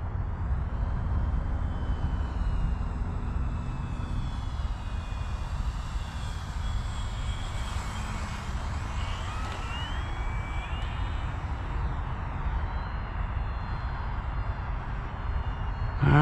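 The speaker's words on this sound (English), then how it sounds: "Another slow flyby." FMS P-47 Bonnie 1.5 m electric RC warbird on a 24.7-volt flight pack making a slow low pass, its motor and propeller drone steady and fairly close throughout, with a faint rising whine partway through.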